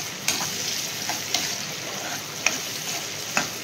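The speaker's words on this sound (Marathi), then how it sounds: "कांद्याला चांगला लालसर होईपर्यंत परतून घ्यायचं आहे।" Sliced onion frying in a pan over a high flame until reddish, a soft steady sizzle with a few sharp clicks from stirring spread evenly through the moment.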